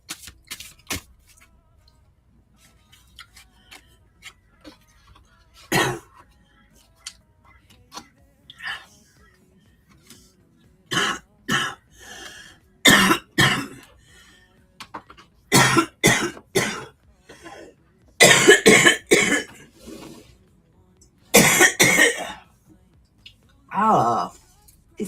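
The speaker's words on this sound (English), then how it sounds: "Oh, this cough won't go away." A person has a persistent cough that comes in repeated harsh, throaty bursts, often in quick clusters. The coughs are close and loud, get more frequent toward the end, and have brief quiet gaps between them.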